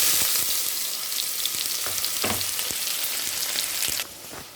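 Onions with ginger-garlic paste fry loudly in a pan in a dense, steady sizzle dotted with a few stirring knocks, then the sound drops off sharply near the end.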